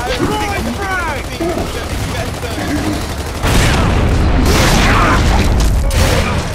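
A frag grenade goes off in a multiplayer shooter, a loud broadband blast with sustained rumbling gunfire-like noise filling the second half, after a stretch of busy game sounds and voices.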